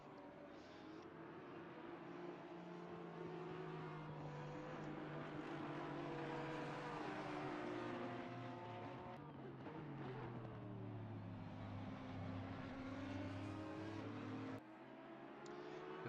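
GT4 and other race cars in a sim racing game at Kyalami, a steady layered engine drone with shifting pitched tones as cars pass and change gear, holding loud and continuous before dropping slightly near the end.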